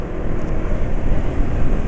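An automatic scooter engine runs steadily as the throttle is opened, a close, continuous low drone with a slight whoosh and no talking.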